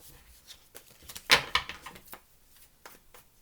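A few brisk papery riffles of tarot cards being shuffled, two sharp bursts close together amid quiet rustling.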